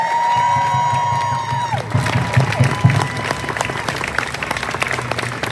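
A crowd at a Trans Visibility march bursts into loud applause and cheering after a sustained tone fades out. Dense clapping with whoops and shouts continues close by and outdoors, with some voices mixed in.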